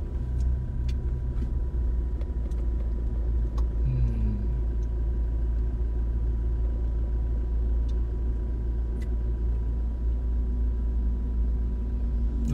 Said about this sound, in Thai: รถมันติดมากเลยครับ